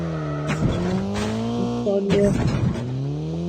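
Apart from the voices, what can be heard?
car driving in Call of Duty video game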